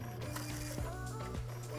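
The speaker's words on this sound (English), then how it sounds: "The liner is being rewound back into the printer's rewind spindle." A Zebra ZT600 industrial label printer rewinds label liner onto its rewind spindle, giving a steady low mechanical hum and whir with faint clicking and two brief ratcheting knocks, close and continuous.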